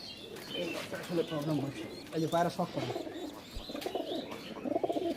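Pigeons cooing in a loft of Kalshira and Rajasthani breeds, with repeated soft coos and chirps close by while people talk over the birds.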